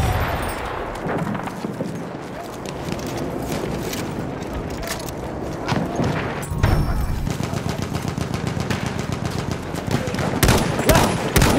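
Enemy machine gun fire in Battlefield 1 on the Soissons map, rapid sustained bursts of rattling automatic shots growing denser and louder toward the end, mixed with other gunfire and battle noise.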